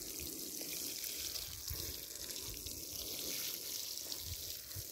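Water poured onto a freshly planted organic vegetable garden bed while watering seedlings, a steady soft splashing and trickling into loose soil, continuous and fairly close.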